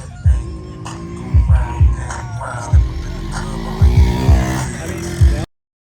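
A Ford Raptor truck engine drives at the King of the Hammers off-road race, with a steady close rumble broken by repeated sharp revving bursts and voices talking over it.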